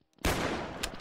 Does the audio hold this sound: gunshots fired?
yes